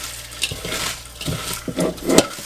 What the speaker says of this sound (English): Just squishing it like this with my hands until it starts to produce a bit of a juice